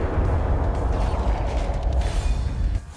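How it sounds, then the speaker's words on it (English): A big explosion in the video game Trials HD Retro, a loud, rumbling blast with heavy low-end crackle that sustains for nearly three seconds before cutting off abruptly, with no speech over it. "Big explosion!"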